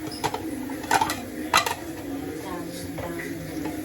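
Dishes are washed at home, with scattered clinks and clatters of plates and utensils over steady running-water noise, while a person talks in the background.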